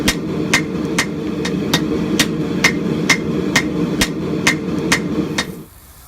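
A hammer strikes a hot Damascus steel bar by hand as it is drawn out, a steady run of sharp metallic blows about two per second over a continuous background roar, stopping near the end.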